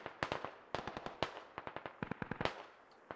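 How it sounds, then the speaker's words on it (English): Gunfire in the military shooter game Squad, rapid clusters of sharp cracks in bursts and single shots, fairly distant, with short pauses between volleys. "He's getting shot at."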